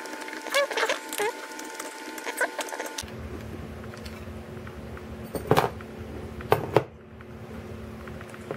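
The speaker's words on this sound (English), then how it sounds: "I'm just going to go ahead and take the screws off." Screws being backed out of the plastic casing of a cheap USB hub with a screwdriver, giving a few sharp close ratchety clicks and scrapes scattered over a steady low hum, with no talking.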